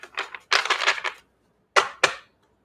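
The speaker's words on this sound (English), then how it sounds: "Give me a second while I shuffle here." A deck of oracle cards is shuffled in short, crisp riffling bursts, two longer runs followed by two quick flicks, close and clear against silence.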